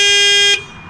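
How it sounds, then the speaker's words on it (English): A camper van alarm system sounds one loud, piercing electronic beep tone held for about half a second, then cuts off sharply, close, with no talking. "that's my alarm."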